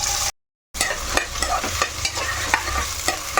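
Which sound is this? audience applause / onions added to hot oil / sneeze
onions added to hot oil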